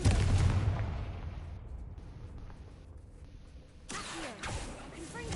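The Confringo fire spell in Hogwarts Legacy goes off as a burst of fiery blast and crackle, followed a few seconds later by a second rumbling impact, with a voice calling the spell.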